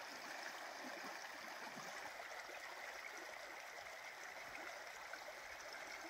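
A river rushes steadily during a hike in Finnish fell country, a constant broad wash of flowing water heard from nearby, with no talk over it.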